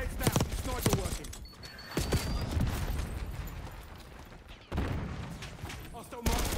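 Sniper shots in a video game crack out as a few sharp, widely spaced reports over a busy background, with voices talking throughout.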